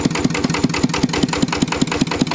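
A Yamaha RT120 motorcycle engine idles close by, a loud, steady chugging pulse with an even rhythm throughout.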